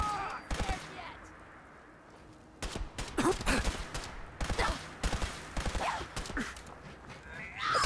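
Heavy-recoil weapon fire in Fallout 4, a handful of loud irregular shots and short bursts standing out over a low game background, with gaps of quiet between them.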